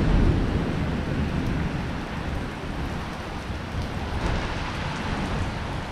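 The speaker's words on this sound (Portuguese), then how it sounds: "Muita chuva, galera. Muita chuva, graças a Deus. Uma pancada bem boa." Heavy rain pours down steadily at a fish farm, a dense, constant hiss of water drumming on surfaces with a low rumble of thunder underneath, close and loud throughout with no voices.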